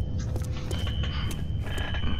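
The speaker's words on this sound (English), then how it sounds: "A fire alarm. It was triggered at a security office on that floor." Fire alarm triggered at a security office in the first-person shooter F.E.A.R., a steady high electronic tone under a busy game soundscape with sharp intermittent bursts of noise.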